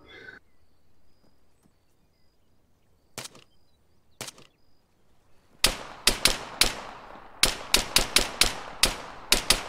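Heavy 20mm cannon fire in ArmA 3, a few isolated distant shots early on, then a rapid series of loud, sharp reports in quick succession against a quiet background.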